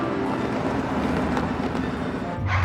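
Train running in an animated cartoon, a steady loud rumble of wheels and rail clatter that carries through the whole stretch without pause.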